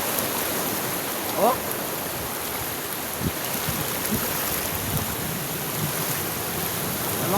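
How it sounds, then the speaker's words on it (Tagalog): A strong water current rushes in a steady, dense wash, loud and close, with a brief voice exclamation breaking through once. "Grabe ang agos sa tubig mga idol."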